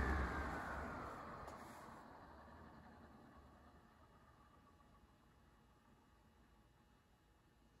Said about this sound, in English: It's a dry spin down. Dry bearings.